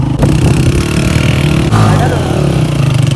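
Motorcycle engine drones loud and close while riding a rough mountain track toward Bashu Valley, a steady labouring growl with a brief shift in pitch midway.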